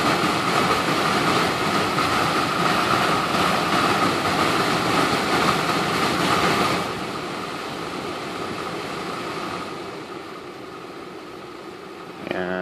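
A car's AC and heater blower motor fan runs at its maximum speed setting, giving a steady, loud broadband whoosh that drops slightly in level partway through before a brief click near the end.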